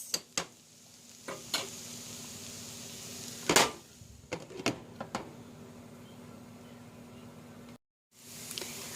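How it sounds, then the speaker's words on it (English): Tostada filling of meat and diced tomatoes with a whole jalapeno, in a covered pan, heard as a soft simmering hiss with scattered clinks and scrapes of pan and lid, close, then a brief cut to silence. "We're going to cover the pan and let it simmer for another"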